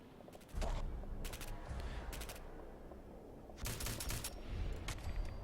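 Rapid bursts of Saiga 12 semi-automatic shotgun fire in Fallout 4, aimed at a giant ghoul: several loud clusters of booming blasts in quick succession, separated by short pauses, over a steady game background.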